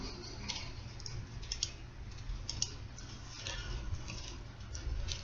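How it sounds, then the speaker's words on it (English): Faint, quick keystrokes tap on a computer keyboard at a Windows command prompt, in a light irregular patter over a low steady room hum. "so I'm going to go ahead and type"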